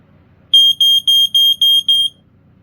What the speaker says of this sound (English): the alarm sounds like your everyday piezo